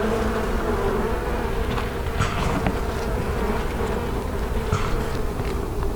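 Honeybees buzz steadily around a hive being fitted with a beetle trap, a dense continuous hum close by with a few louder individual bees passing near.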